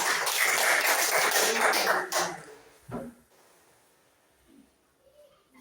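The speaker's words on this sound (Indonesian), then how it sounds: "Tepuk tangan untuk Nona Maria." Brief burst of classroom clapping for Miss Maria, dense for about two seconds then dying away to a few scattered claps and quiet room noise.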